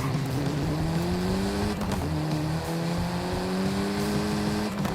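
A racing car's engine revs hard and climbs through gears in NFS Heat or Forza Horizon, a loud continuous whine with repeated rising pitch sweeps between quick shifts, no talking.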